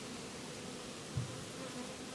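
Bees hum in a continuous low drone around an opened hive during coriander honey extraction, steady and close, with no voices.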